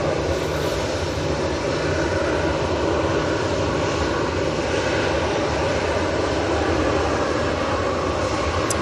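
An airplane roars on the runway at Manchester Airport, a loud, continuous broadband engine rumble that holds steady without a break and drowns out everything else.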